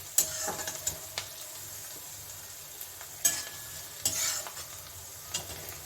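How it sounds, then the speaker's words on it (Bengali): Onion frying lightly in oil in a pan while being stirred, producing a soft continuous sizzle with scattered scraping clicks of the spoon, faint and close. "পেঁয়াজটাকে আমি এখন একটু হালকা ভেজে নিচ্ছি, খুব একটা লাল করব না"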